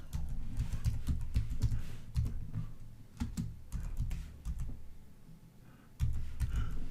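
Typing a text prompt on a computer keyboard for an AI art generator, with a steady run of light, close key taps over a constant low background hum.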